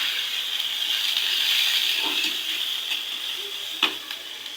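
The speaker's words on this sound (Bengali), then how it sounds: "আদা রসুন বাটা দিয়ে একটু ভেজে নিলাম।" Ginger-garlic paste frying in a pan gives a steady bright sizzle and hiss that swells slightly and then eases, with a few soft stirring clicks and one sharp tap near the end.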